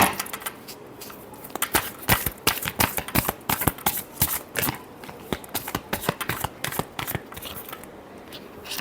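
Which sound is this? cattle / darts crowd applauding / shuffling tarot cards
shuffling tarot cards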